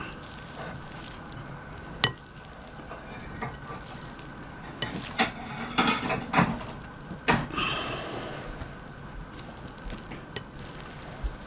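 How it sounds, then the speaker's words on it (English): Rice stir-fried in a pan with vegetables, egg and rabbit meat, giving a steady sizzle broken by scraping spatula strokes and a few sharp knocks against the pan, close by, with no voices. "got the first batch of rice, and I'm working in the first half of the vegetables, egg,"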